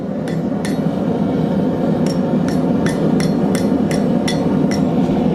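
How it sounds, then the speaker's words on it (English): A blacksmith hammers hot metal over the edge of a scrolling starter, with about a dozen sharp ringing strikes in an uneven rhythm above a steady, loud roar of forge or shop noise. "Same basic idea, start hammering over the edge."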